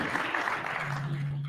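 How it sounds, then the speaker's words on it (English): Audience at an industry outlook forum clapping for a panel, a dense steady patter of applause with a faint voice briefly underneath. "please give a round of applause"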